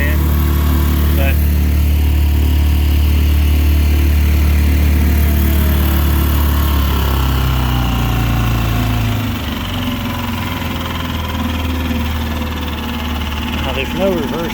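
A Mercury 2.5 hp outboard motor runs loudly and steadily close by, its low droning hum shifting pitch slightly partway through, with a voice over it.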